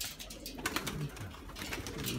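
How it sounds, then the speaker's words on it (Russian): Pigeons coo softly at close range, low throaty murmurs rising and falling in a quiet setting with faint background noise. "Смотрите, как все голуби смотрят здесь, и как она смотрит."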